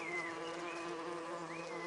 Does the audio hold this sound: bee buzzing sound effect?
yes